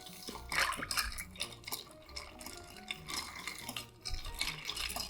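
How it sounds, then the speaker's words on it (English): A cocktail stirred in a mixing glass at a bar, a quiet, busy run of clinks and swirling liquid with faint spoon scraping, heard close with no talking. "I'm just gonna get down to business and stir my cocktail"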